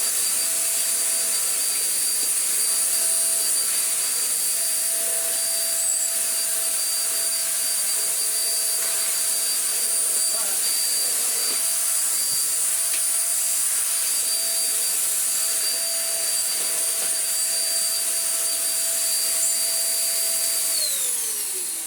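Morphy Richards Perform-Air 73381 upright bagless vacuum sucking up sawdust from a deep-pile rug, a loud, steady motor whine and airflow roar running continuously, with its pitch dropping slightly just before the end.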